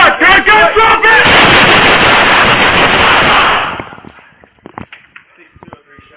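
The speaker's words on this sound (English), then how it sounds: "Shots fired. Shots fired." Police fire a rapid burst of loud, close gunshots at an armed man inside a hospital, over shouted voices, the volley lasting a few seconds before fading into scattered clatter and quieter sounds.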